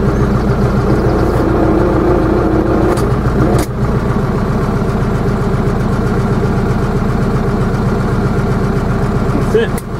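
A Zetor 7245 tractor runs a flail hedge cutter with the head spinning. Loud, close engine chugging and a whirring rotor go on continuously, with a couple of sharp knocks, and a voice talks over the machinery.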